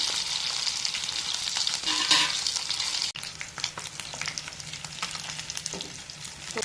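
Fish frying in a pan with curry leaves gives a steady, close, bright sizzle that runs continuously with small crackles and one brief dip midway, no talking.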